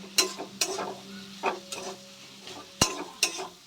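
Spices and fish egg curry with Kashmiri red chili powder stir-fried in a pan, a spatula scraping and clinking in irregular strokes over a soft, steady sizzle, close and fairly quiet.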